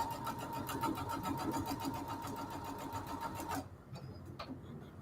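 A sewing machine runs at close range with a fast, even mechanical chatter while back stitching, then stops abruptly, leaving a quieter background with a few faint clicks.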